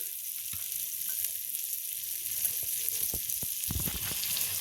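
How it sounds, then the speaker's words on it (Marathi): Crushed garlic sizzles steadily in hot butter with a little red chilli, a constant bright hiss with occasional soft clinks and scrapes of stirring near the end. "आपण त्याला वरून फोडणी देणार आहोत लसणाची"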